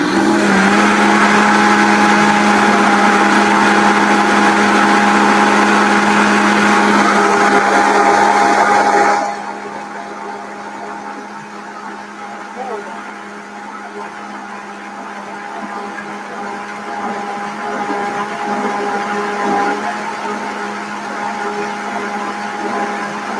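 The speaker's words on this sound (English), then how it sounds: "So I'm going to put the blender again running, and then I'm going to add it while it's blending." A kitchen blender whirs loudly and steadily while mixing low carb pumpkin pie filling, then after about nine seconds drops to a quieter, lower running hum that continues to the end.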